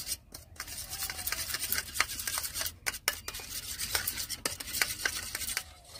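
Ground black pepper is stirred into food in a pan, giving rapid scraping and rubbing strokes of a utensil against the pan, close and fairly continuous with brief pauses.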